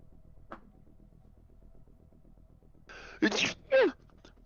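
A single sharp sneeze near the end, preceded by a quick inhaled gasp, set against quiet background hum at a tabletop D&D game session.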